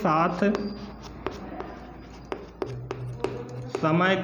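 Chalk or marker strokes on a classroom board during a physics lesson, a run of short scratchy taps and swipes close up, with a teacher's voice talking at the start and end.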